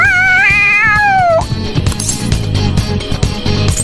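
A cat in the Persona 5 Royal video game meows loudly, with a rising and falling wail lasting over a second, followed by busy game music and effects.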